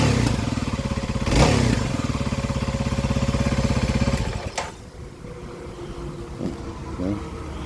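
Kawasaki KLX 300 dual-sport motorcycle with an upgraded air box, its engine running at a steady, throbbing idle for about four seconds nearby, then cutting off to quieter background clatter and handling sounds.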